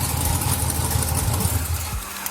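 LS1 5.7 V8 swapped into an 86 Monte Carlo SS idling steadily, a low rumbling burble heard close by and fairly quiet throughout.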